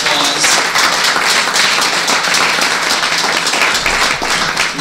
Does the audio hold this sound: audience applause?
yes